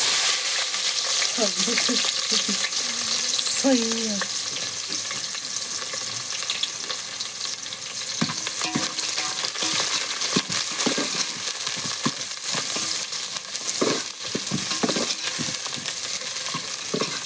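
Onions sizzle and crackle steadily in hot oil in a pan, loud and close, for a village-style stuffed brinjal and raw fish curry, with occasional stirring and clinks.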